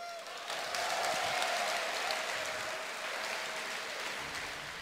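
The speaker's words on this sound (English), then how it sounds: "You guys should give yourselves a round of applause." A crowd at BlizzCon claps and cheers steadily for several seconds during a StarCraft II match, swelling quickly then slowly tapering off.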